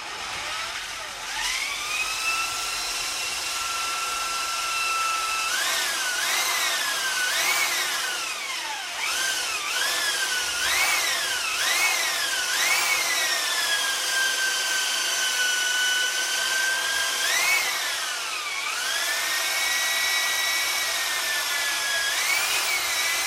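A drill bores a hole through a motorcycle handlebar with a continuous high whine that rises and falls in pitch as pressure changes, loud and close for the whole stretch.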